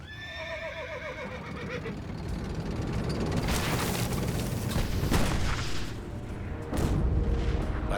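Horses of a cavalry unit, opening with a loud, clear whinny, followed by rumbling hooves, booms and battle noise building behind it.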